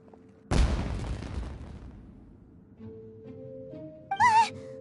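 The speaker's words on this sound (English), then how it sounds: "Was that an explosion?" A sudden loud boom bursts out in the Genshin Impact video game, then rumbles and decays over about a second, followed by quieter sustained tones and a brief warbling sound.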